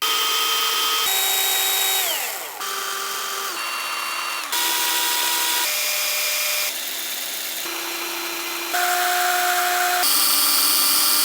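Several small pruning chainsaws, including Craftsman, Metabo and M12 models, run one after another, each a steady high-pitched motor whine with a distinct tone, switching abruptly between machines, loud and close.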